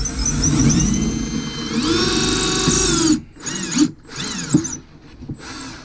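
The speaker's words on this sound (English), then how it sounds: "So I'm going to drill this through." A power drill whirs steadily for about three seconds, drilling through wood, its pitch rising as it bites in, then stops, followed by a few scattered knocks and handling sounds.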